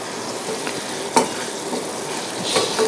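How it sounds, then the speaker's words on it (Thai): Coconut milk and curry paste stir-fried together in a pan for a Thai chee curry sauce with squid-ink fettuccine and gourami fish, giving a steady soft sizzle with scraping stirs and one sharper clink midway. "เราก็ผัดให้มันแตกมัน"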